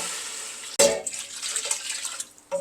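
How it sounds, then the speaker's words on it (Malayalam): Water mixed with coconut milk poured into a pot of rice for ghee rice: a sudden splashing pour that runs for about a second, trickles off, then a second pour starts near the end. "ഇനി ഇതിലേക്ക് നമ്മൾ വെള്ളം ഒഴിച്ചു കൊടുക്കണം."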